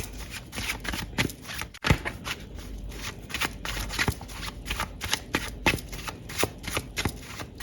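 Tarot cards are shuffled close up in quick, riffling bursts, a soft, papery flutter repeating rhythmically with brief pauses between passes.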